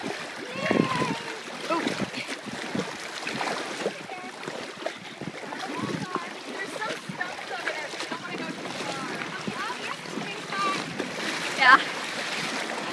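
Horses wade and swim through water on a trail ride in Odessa, with steady sloshing and splashing throughout and people talking and calling out over the water.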